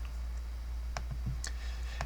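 A few sharp, light computer mouse clicks while working in SketchUp, scattered irregularly over a low steady hum, close and fairly faint.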